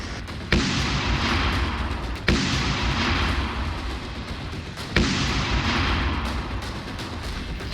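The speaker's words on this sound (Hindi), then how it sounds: "ये देखिए किस तरह ये मिसाइलें निकली और अपने टारगेट की तरफ बढ़ चलीं।" P-800 Onyx supersonic cruise missiles fired from a Bastion coastal missile system on the Black Sea shore, three heavy launch blasts each followed by a sustained loud roar.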